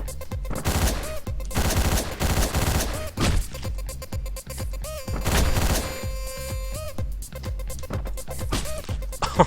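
Gunfire in the video game Hotline Miami: rapid bursts and single shots crack repeatedly over pulsing synth music, loud and close throughout, with brief lulls between volleys.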